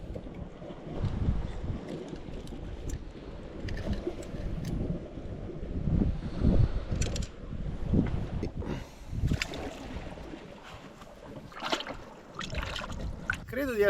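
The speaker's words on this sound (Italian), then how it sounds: "Il vento termico si era momentaneamente calmato al tramonto, ma poi è immediatamente ripreso, forte come prima e ancora persiste" Strong gusting wind buffets the microphone at night during a solo fishing session, a rough, rumbling roar that rises and falls unevenly under occasional low talking.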